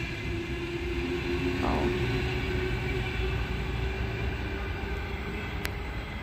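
A train runs past the platform at Heathcote station, a steady loud rumble and rush of rail noise that holds for several seconds, with no voices.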